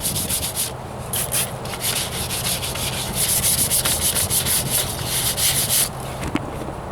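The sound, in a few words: hand sanding Ford Ranger rocker panel with 500 grit sandpaper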